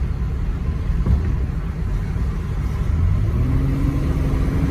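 A Chevy Impala engine drives steadily and shifts down a gear, a mid-pitched hum with a rising tone toward the end, heard alone without voices.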